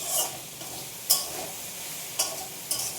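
Okra, potato, onion and green chilli fry in a home pan with a steady low sizzle, while a spatula scrapes and clinks against the pan several times at irregular moments, close up and without speech.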